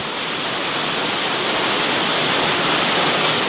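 Rushing stream of water flowing through a canyon trail in the American West, a loud, steady broadband roar that stays constant and close throughout with no other sounds.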